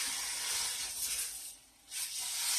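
Meat searing in a hot pot for a burgundy pot roast, giving a loud steady hiss and sizzle that dips briefly near the end and then comes back strongly.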